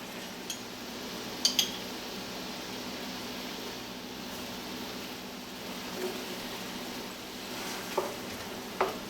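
Shallots and sauce ingredients sautéing in a pan after radishes are removed, a soft steady sizzle with occasional faint utensil clinks, no talking.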